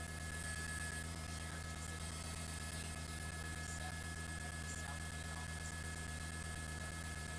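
A law enforcement helicopter hovers overhead during a police pursuit in Los Angeles, its steady rotor drone and engine whine continuous and fairly distant for the whole stretch, with no voices over it.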